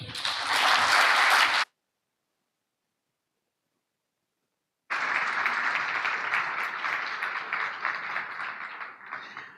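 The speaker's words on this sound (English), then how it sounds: "a big round of applause for him, for his remarks and his motivation this morning" An audience at a business forum applauds a speech in a dense burst of clapping that stops abruptly, then after a few seconds of silence a second long round of applause follows and gradually thins.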